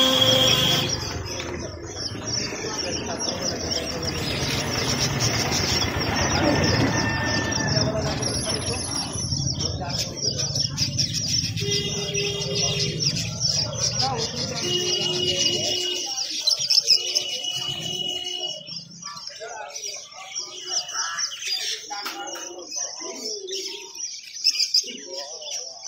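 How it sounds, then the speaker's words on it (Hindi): Many parrots call with squawks and chirps, loud and dense over the first fifteen seconds before thinning to scattered calls, with a person talking over the flock. "कितना सारा तोता है ये"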